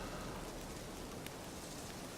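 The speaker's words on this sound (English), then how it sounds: "The wind kicks up and the rain kicks up." Steady heavy rain pours down in The Witcher 3 video game, a dense continuous hiss with no voices.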